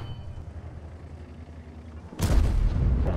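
A tank cannon fires in the World of Tanks video game, a single loud booming blast that bursts in suddenly after a low rumbling engine drone and rings on to the end.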